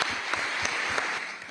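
Audience applause at an event, a short, fairly faint burst of steady clapping heard from within the room.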